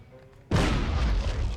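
A crate packed with grenades blows up in the Medal of Honor video game, a sudden loud boom that stays as a dense rumbling roar for over a second, heard alone with no talk.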